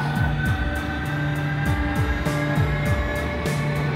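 A formation of aircraft takes off from runway 25 with a steady, loud engine drone, overlaid by a repeating whining tone pattern that rises and falls several times in a regular cycle.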